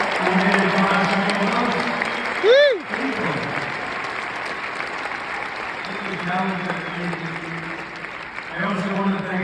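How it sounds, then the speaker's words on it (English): Arena crowd applauding and cheering at a presidential inauguration event at Capital One Arena, a steady broad wash of clapping through the whole stretch, with a brief whistle-like swoop near the middle. "let's give a big round of applause"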